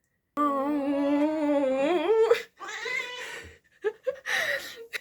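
A loud, drawn-out meow rising in pitch, followed by a couple of shorter, broken cat yowls, close by in an otherwise quiet room.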